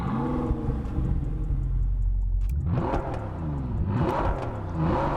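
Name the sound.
Bentley engine sound in the video game Test Drive Unlimited Solar Crown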